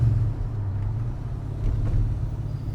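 A GT40 sports car's mid-mounted engine throbs steadily right behind the driver, a loud continuous low rumble with wind noise and no speech.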